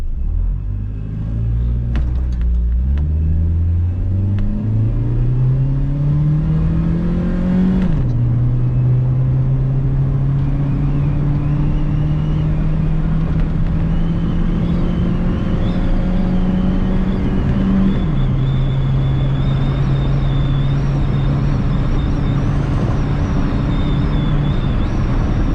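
Nissan econo-box car on stock ECU accelerating hard through a timed run, heard from inside as a loud droning engine rising in pitch, dropping at a gear shift, then climbing again and holding a steady high drone.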